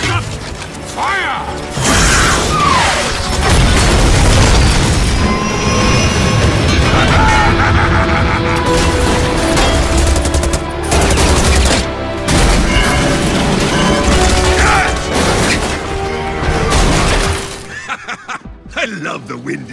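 Cartoon rocket launch and explosions in a children's comedy animation, a loud dense barrage of booms, crashes and mechanical clatter sustained for most of the span, with voices shouting over the chaos before it drops away near the end.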